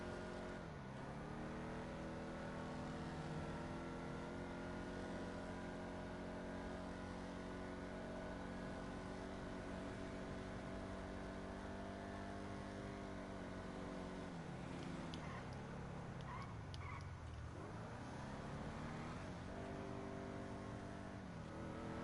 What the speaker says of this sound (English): That was supposed to be a powerful downshift to second and the rip. And it just was a noise.